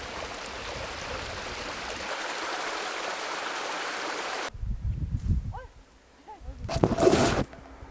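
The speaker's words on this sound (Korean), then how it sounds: "물소리, 바람소리 들으며" Forest stream water flows near a cabin in the woods, first as a steady, soft rush, then in short, splashy bursts with brief gaps.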